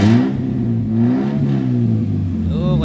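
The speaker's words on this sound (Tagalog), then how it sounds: "Tingnan natin kung meron tayong power sa ating makina." A Toyota Corolla engine, recently repaired after idle drop and stalling, revs up and settles in a steady mid-pitched drone close by, with a brief rising whine near the end.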